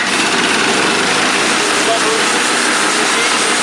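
A Wood-Mizer portable sawmill's engine runs loud and steady at close range while the water-cooled blade cuts through a log, a continuous broadband roar with no pauses.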